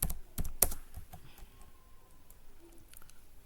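Sharp, close keystrokes land in a quick cluster at first, then thin out to sparse light taps as a caption is typed in Microsoft Word in a quiet room, with no talking.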